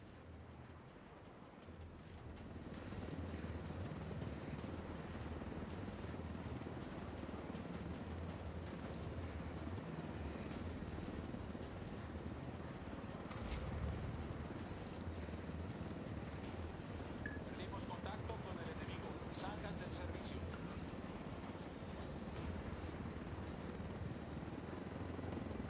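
Helicopters in Ghost Recon Wildlands, set in Bolivia, drone with a steady, loud rotor roar that holds for the full stretch, with faint scattered game effects on top.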